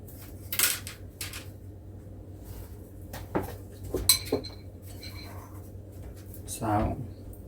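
Metal cutlery clinks and rattles as someone rummages in a kitchen for a spoon, with scattered light chinks and knocks at close range.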